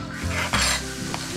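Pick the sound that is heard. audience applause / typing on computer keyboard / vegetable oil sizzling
vegetable oil sizzling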